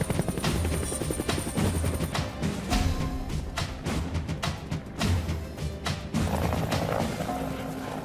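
A helicopter comes in to a landing area, its rotor chop steady and loud with a continuous mechanical drone and rattling beats throughout, with no voices over it.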